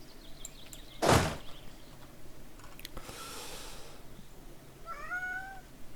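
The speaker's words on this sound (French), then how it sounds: "Oui, je t'entends, le chat." A house cat meows twice: a first loud, close cry that soon trails off, then a short wavering meow near the end, set against a quiet indoor background with a soft thump between them.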